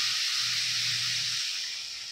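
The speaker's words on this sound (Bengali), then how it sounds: "এরপরে আমি জল দিয়ে দিই।" Water poured into hot spice paste gives off a loud, steady steam hiss at once, with a low bubbling undertone that fades while the hiss tails off over about two seconds; no talking.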